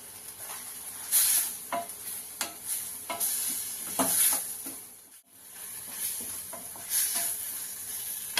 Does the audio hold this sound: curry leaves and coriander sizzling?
yes